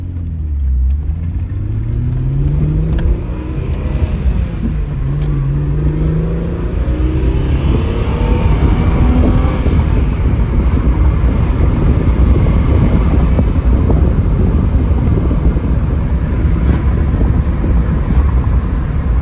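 A 1986 Alfa Romeo GTV6 accelerates on the road, its engine note climbing during the first few seconds. It then settles into a loud, steady cruising drone mixed with road and wind noise, heard from inside the car.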